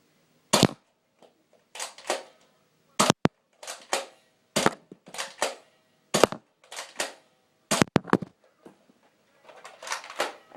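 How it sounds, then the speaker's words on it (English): A Nerf blaster fires a dozen or so sharp, close snapping shots, some single and some in quick pairs, each followed by a short rattling priming stroke, with silent gaps between. "So I'll do 6 standard shots and 6 slam fire."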